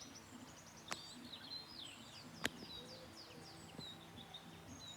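Birds sing in the morning outside a house near a beach in Ireland: quiet, scattered chirps and whistled calls at a distance, mixed with a soft low cooing and a couple of sharp clicks or knocks.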